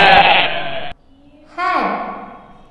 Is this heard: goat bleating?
yes